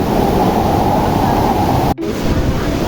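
A river running high and fast gives off a loud, continuous broadband rush of water, steady throughout apart from a momentary dropout near the two-second mark.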